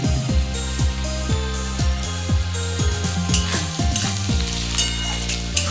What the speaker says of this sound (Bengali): পেঁয়াজটা আমার এখনো ভাজা হয়নি আমি একটু লাল লাল করে ভাজবো